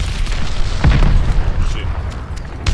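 A glide bomb detonating in the shooter Call of Duty: Vanguard, heard as a heavy booming blast with rumbling low end amid the ongoing clatter of a loud multiplayer match.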